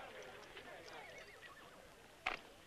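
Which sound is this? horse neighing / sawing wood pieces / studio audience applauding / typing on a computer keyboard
horse neighing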